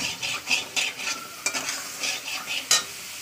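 Small amount of oil heating and sizzling in a wok over a gas flame, a soft steady frying hiss with light stirring scrapes at irregular intervals, close and moderately quiet.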